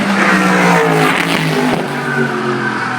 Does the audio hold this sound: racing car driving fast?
yes